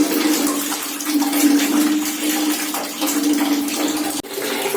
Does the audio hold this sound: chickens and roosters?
no